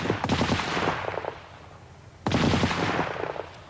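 A Vickers Medium machine gun fires two loud, close bursts of rapid shots separated by a short pause, each burst rattling for about a second before a brief echoing tail.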